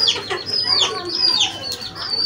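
Chickens at a Rawalpindi bird market setup cluck and squawk in quick repeated bursts, fairly close and continuous over low background noise.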